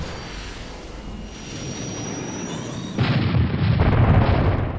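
A mana bomb dropped from a goblin zeppelin explodes over a human port settlement in Warcraft, a rising rumble that swells into a loud, sustained roaring blast.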